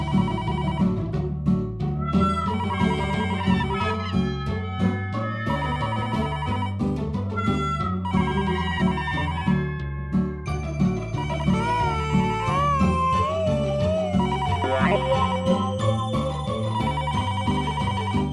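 A landline telephone rings late at night, repeated trilling bursts in a steady pattern over a musical background, loud and alone with no talk.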